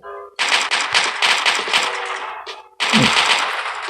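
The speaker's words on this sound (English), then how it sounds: "So that is a submachine gun. It can perform fairly similar to a assault rifle." Submachine gun in the mobile shooter game Coalition firing two rapid automatic bursts, loud and close, with a brief pause between them and no talking.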